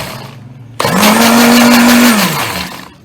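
A kitchen blender whirs up loudly, running steadily as it mixes oil, milk and vinegar, then spins down and fades near the end.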